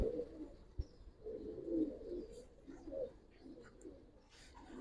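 A young adult female Giribaz pigeon of the Palla line coos softly in a low, rolling murmur, with a few quieter bird calls mixed in and no talk over it.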